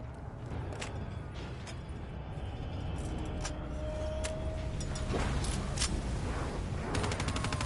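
Turret fire in Call of Duty Black Ops 3, dense rattling bursts of automatic gunfire over a low rumbling background, with rapid fire at the end.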